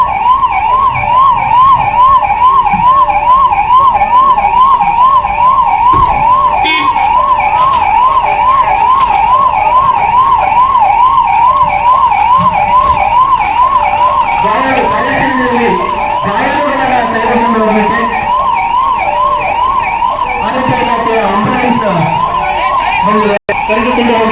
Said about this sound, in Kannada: ಆಂಬುಲೆನ್ಸ್ ಬಂತು, ತಾವೆಲ್ಲ ಗಮನಿಸ್ತಾ ಇದ್ದೀರಿ